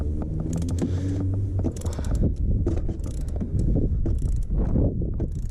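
A ratchet clicks repeatedly while tightening a part during a service on a BMW E92 325d, with creaking mechanical ticks close up and steady throughout, no talking.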